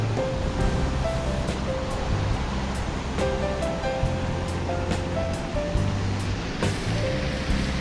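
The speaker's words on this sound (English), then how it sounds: "Water fountain." Large water fountain outside the Metropolitan Museum of Art at night, a constant broad rushing splash close by that fills the scene evenly with no pauses.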